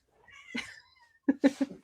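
A cat meows close by, one drawn-out cry followed by a quick series of shorter, insistent meows.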